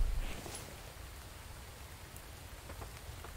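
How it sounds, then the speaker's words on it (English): Rain falls in the survival video game The Infected, a soft steady hiss of drops with a few faint ticks, quiet and continuous with no talking. "I want to get out of the rain."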